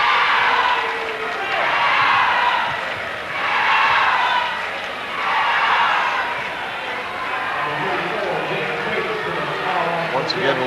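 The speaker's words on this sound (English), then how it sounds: "we're looking at a terrific crowd here at McCluskey Gymnasium here in Farrell, Pennsylvania." Crowd noise fills McCluskey Gymnasium in Farrell, Pennsylvania, at a high school basketball game, loud cheering rising and falling in repeated swells before settling into a steadier murmur.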